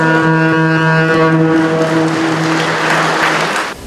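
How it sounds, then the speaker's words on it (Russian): Applause at a factory launch ceremony, loud crowd clapping that swells and builds over a long sustained horn-like tone that fades partway through. "Друзья, давайте поддержим аплодисментами этот торжественный момент."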